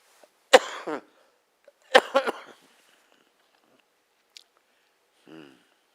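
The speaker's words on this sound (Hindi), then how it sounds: "थोड़ा सा मैं खांसता हूँ" A couple of harsh coughs close to the mic, separated by a pause, with a faint throat sound trailing afterward.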